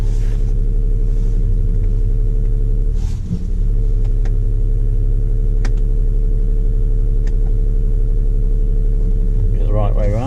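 A car's engine rumbles loudly and steadily from inside the cabin as it is driven, holding a constant low drone with a brief dip and a short rise in revs near the end.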